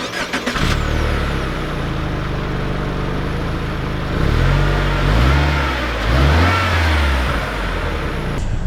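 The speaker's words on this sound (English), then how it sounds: "let's take out the new Ascent to see how it drives" A 2020 Subaru Ascent Touring driving, its engine holding a steady drone, then rising and revving in two surges of acceleration, heard from inside the vehicle, with no talking.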